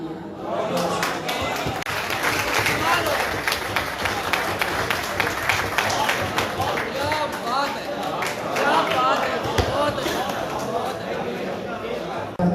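Audience clapping fills a Punjabi ghazal mushaira hall, sustained and dense for the whole stretch, with scattered crowd chatter mixed through the applause.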